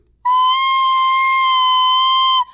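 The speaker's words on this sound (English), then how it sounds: "if you don't have your fingers covering the holes all the way, it can be kind of a squeal" A piercing, steady high-pitched squeal from a recorder with finger holes not fully covered, starting abruptly, holding one shrill tone for about two seconds, then cutting off.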